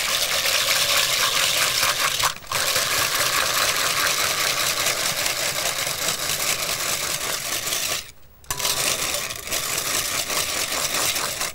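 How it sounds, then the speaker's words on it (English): A rotary whisk beats egg whites in a bowl for a pavlova, making a steady, fast whirring and clattering that runs continuously, close and fairly loud, with two brief pauses, and nobody talks. "And I'm using a rotary whisk for this one"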